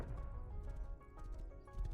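Horse hooves galloping in a video game raid, a busy continuous clatter of steps under a dense game soundscape with low rumble.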